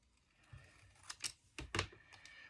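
Scissors snip through a paper belly band for a junk journal at a desk, a few quiet, close, sharp cuts spaced apart, no voice.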